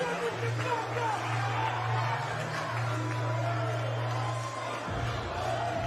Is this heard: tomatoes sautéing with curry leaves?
no